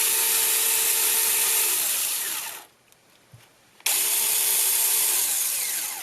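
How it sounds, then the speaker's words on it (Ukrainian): A Makita cordless saw, running again after its burnt-out motor was repaired, whines loudly and steadily for about two seconds. It winds down to near silence with a brief click, then starts again at full, even speed. "Як ви бачите, пилочка Працює все"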